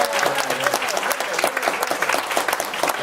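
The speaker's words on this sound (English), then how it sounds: "Can you give yourself a big round of applause for what you've done?" An audience at a district gathering applauds: dense, loud, sustained clapping from many hands throughout, close and continuous with no break.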